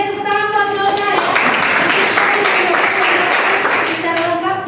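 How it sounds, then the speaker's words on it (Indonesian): A classroom of students applauds a classmate during a lesson: a steady patter of clapping lasting about three seconds, framed by a teacher's voice speaking just before and after. "tepuk tangan buat Yona ya"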